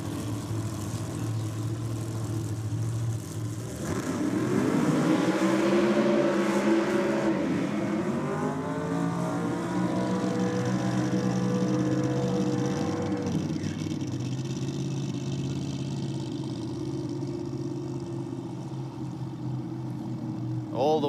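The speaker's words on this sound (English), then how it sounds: "Greg Sakaridis, very deliberate, very straight, very long burnout." A drag race car in a supercharger-versus-turbo grudge race does a long burnout, its engine building to a loud, rising roar that holds for several seconds before fading, heard over a steady crowd and announcer background.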